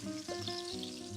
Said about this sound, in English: so you fry the eggs. Start frying the eggs.